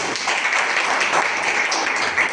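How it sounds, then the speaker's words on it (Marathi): Applause from a gathered congregation inside a Buddhist vihara during a Sunday Buddha Vandana, a steady wash of many hands clapping at moderate level, continuous for a couple of seconds with no break. "त्यांच्यासाठी सर्वांनी एकदा टाळ्या वाजवा"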